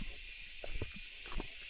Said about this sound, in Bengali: দিনের বেলায় প্রচুর পরিমাণে ঝিঝি পোকা ডাকতেছে